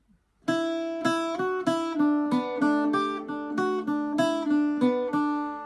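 Irish bouzouki playing the second line of MacArthur Road, a close, solo sequence of crisp picked notes in even rhythm with ringing sustain between the attacks.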